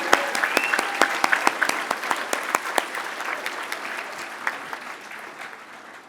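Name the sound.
audience applause at awards ceremony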